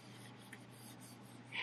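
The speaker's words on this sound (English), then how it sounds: "I think I just am going to erase everything" A board is wiped clean in a quiet, continuous rubbing and scraping sound, faint and close, with no voices.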